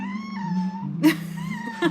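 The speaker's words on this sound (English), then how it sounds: "You guys listen to this cat?" A pet cat gives drawn-out wavering meows, close and fairly loud, in a short run of complaining cries in a home kitchen.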